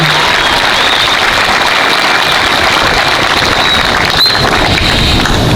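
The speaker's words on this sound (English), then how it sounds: "Can we have one more round of applause for all of our student speakers?" Loud, dense applause for student speakers fills a high school graduation ceremony, a continuous roar of many hands clapping with no break and no talk over it.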